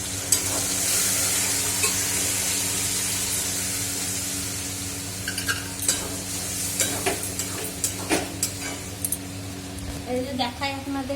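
Vegetables stir-fried in a pan, a steady hiss of frying that turns busier near the end as the vegetables go in and are tossed, with scraping and clatter at close range.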